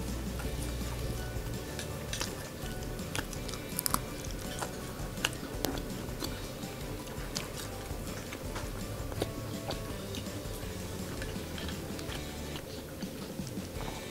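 Crunchy fried Sumedang tofu chewed close to the microphone, a steady run of small crisp crackles and clicking bites over about fourteen seconds, with no talking.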